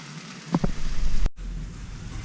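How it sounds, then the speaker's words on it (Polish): Onions and mushrooms cook together in a pan with a steady, close broadband sizzle. The hiss drops out for a moment partway through, then carries on at about the same level. "gdy cebulka nam będzie się gotować z pieczarkami"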